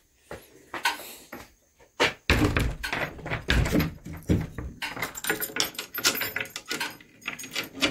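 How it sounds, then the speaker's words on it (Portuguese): Keys jangle and an old door is pulled shut at a place selling antiques, with a sharp knock near the start followed by a rattling, scraping stretch of handling and clinking close by; no talking. "Vamos fechar aqui a porta bonito."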